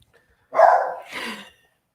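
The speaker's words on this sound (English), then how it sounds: "My dog." A dog gives a single close woof in two quick parts, alone in an otherwise quiet room.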